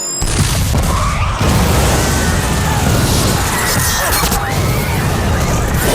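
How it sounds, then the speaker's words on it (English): A movie explosion in a public place erupts as a loud, sustained crash and rumble with debris-like bursts, continuing at a dense, steady level throughout. "Explosion in a public place."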